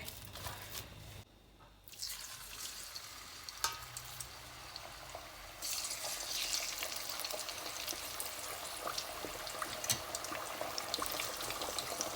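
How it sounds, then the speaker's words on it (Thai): Batter-coated pork frying in oil with a soft, steady sizzle and scattered pops, briefly dipping quieter before the frying grows denser and louder for the rest, no voices. "ทอดหมูไปด้วย"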